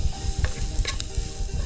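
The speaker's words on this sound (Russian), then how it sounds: "Перец жарим до тех пор, чтобы он перестал быть хрустящим" Bell pepper fries in a pan at an outdoor fishing camp, giving a steady low sizzle, while a utensil stirs and scrapes through the pieces in a few short clatters.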